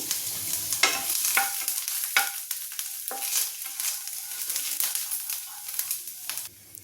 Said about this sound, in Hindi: लहसुन अदरक बारीक कटी हुई, इन्हें अच्छी तरह से भून लेंगे